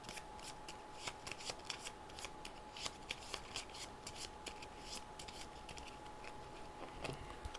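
Character activation cards for a Masters of the Universe board game being shuffled by hand, quiet repeated riffling and snapping bursts in an otherwise still room.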